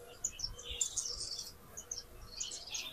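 Many caged birds at a market in Kuwait chirp and tweet in quick overlapping bursts, a busy, moderately faint chatter over low background noise.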